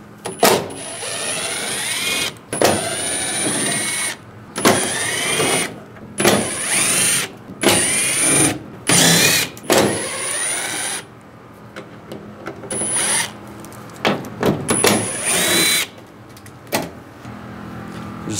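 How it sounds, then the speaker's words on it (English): A power tool fitted with a T30 socket backs out tailgate screws on a 2011-2018 Ram 1500, whirring loudly in repeated bursts of a few seconds each, with brief pauses between runs, close to the listener. "With the tailgate down, we're going to take these screws out, use a T30 socket."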